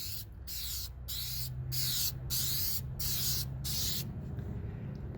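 Clear coat sprayed from an aerosol can onto a restored car headlight comes in seven even, close bursts of hissing spray with short gaps between them, followed by a fainter tail.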